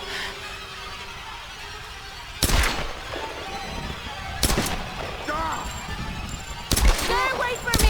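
Gunfire in the 2013 Tomb Raider game: three sharp, loud shots spaced a couple of seconds apart, each followed by a ringing tail, over a murky background with a voice crying out.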